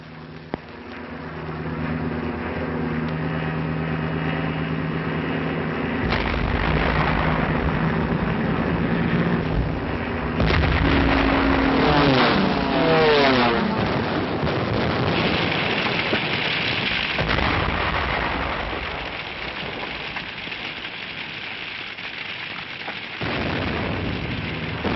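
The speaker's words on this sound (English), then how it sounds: "This was Rotterdam, bombed after the Dutch forces had surrendered." Archival war film of the 1940 Rotterdam air raid: heavy, sustained roaring rumble of bombing explosions and aircraft noise, loud and continuous for most of the stretch, swelling in the middle and easing toward the end.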